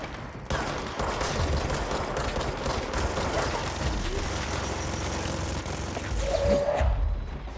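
Sustained gunfire in the shooter game Control, a dense loud fusillade of rapid shots and mechanical clatter running almost without pause.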